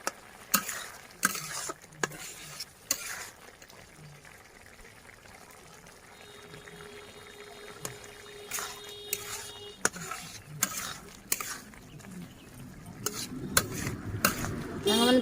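Ridge gourd and potatoes with poppy seed paste are stirred in a frying pan, giving repeated scraping strokes over a soft, steady sizzle, with no talking.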